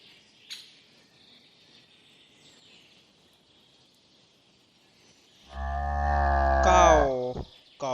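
A buffalo gives a single long, deep, loud moo close by, rising out of a quiet background of chirping crickets and insects.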